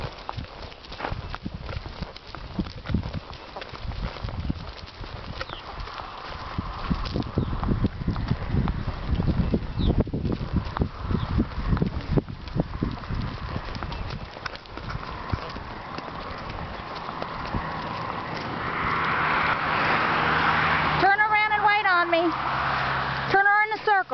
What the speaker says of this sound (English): Ride your horse.